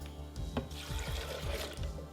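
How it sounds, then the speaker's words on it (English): Water pours into a blender jar over hazelnuts, a steady close splashing and trickling that fills the short stretch with a few soft knocks. "I'm just going to add the hazelnuts into the blender and then put 2 cups of water."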